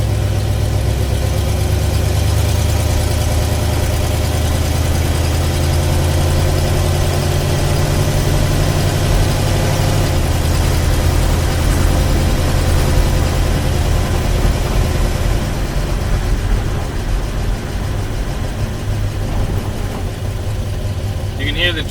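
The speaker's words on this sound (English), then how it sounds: "You can hear the trunk rattling around because there's no weather stripping in it." A 1958 Studebaker Commander idles with a steady low engine rumble, its trunk lid rattling loosely for lack of weather stripping; the sound stays close and continuous throughout, with no talking.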